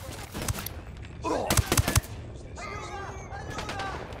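Bursts of gunfire from a Ghost Recon Wildlands firefight, several sharp shots clustered together amid background game ambience, followed by a voice speaking.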